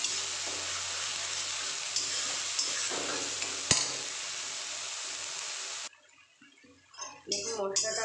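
Spice paste for ghugni fries in oil with a steady, close hiss and soft scraping stirs, then the sizzle cuts off and a voice speaks briefly over quieter clatter.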